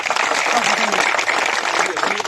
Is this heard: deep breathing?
no